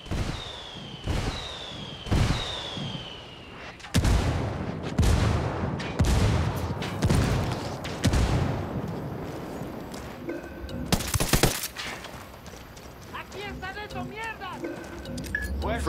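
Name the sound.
rebel indirect artillery fire in video game Ghost Recon Wildlands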